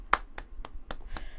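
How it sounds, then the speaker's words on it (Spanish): Five sparse, separate claps spaced roughly evenly, faint and close, with a quiet room behind them. "¡Aplaudan, gente! ¡Aplaudan, cine!"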